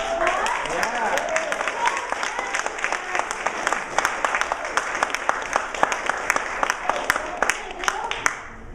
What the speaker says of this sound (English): And please, if we can give Tracy a round of applause.